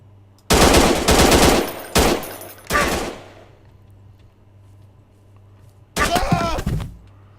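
Gunfire in the video game Martial Law, loud bursts of rapid automatic shots that stop and start, with a long quiet gap before a final burst, over a low steady hum.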